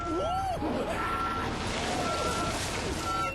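A dump truck's reversing alarm beeps steadily in a Happy Tree Friends cartoon scene, over a dense rumbling background with squealing, swooping cartoon sound effects layered on top.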